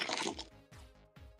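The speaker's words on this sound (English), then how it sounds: "please let me know if my crunching is too loud" Food crunches close to a microphone in a few distinct bites, a dense, loud first crunch followed by two more separated by brief pauses, with no talking.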